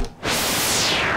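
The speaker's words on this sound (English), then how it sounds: "Korg MS-10 wired up for a nice noise." A Korg MS-10 analog synthesizer is wired for noise and gives a loud, steady hiss that swells in after a brief dip and holds as a broad wash.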